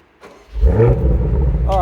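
A 2024 BMW X6M engine fires up after a quiet half-second, then settles into a loud, deep, steady idle rumble close by, with a short voice-like sound near the end.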